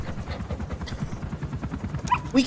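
A puppy yips and barks in the video game Metal Gear Solid V, short high calls rising near the end over a dense, rumbling game soundtrack.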